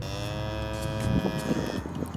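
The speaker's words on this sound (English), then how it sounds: "that was the quietest moo I've ever heard" A cow lets out a soft, low moo, close by but quiet, over a steady hum of background noise.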